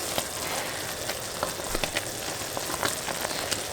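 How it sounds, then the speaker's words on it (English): Lemon ginger marmalade at a vigorous boil in a pot, a dense steady bubbling hiss with scattered pops and spits, close and continuous with no talking. "And we want a vigorous boil."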